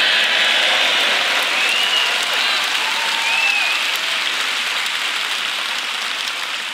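Audience at a Reform UK political speech in London breaks into sustained, loud applause that fills the whole stretch, with brief whistles and cheers rising briefly above the clapping.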